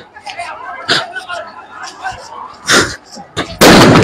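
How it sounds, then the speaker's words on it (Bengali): Sharp gunshots and shell bursts crack out near Khulna University during clashes with students, with rubber bullets and tear gas shells fired. Several irregular bangs ring out amid crowd babble, ending in a loud close blast. "যে আপনারা শুনছেন যে মুহুর্মুহু গুলি এবং রাবার বুলেট এবং টিয়ার শেল"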